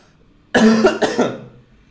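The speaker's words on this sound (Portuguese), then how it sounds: "eu tô tentando aqui muito não tossir" Two quick, harsh coughs from a person sound close and alone, the second following right after the first, then quiet returns.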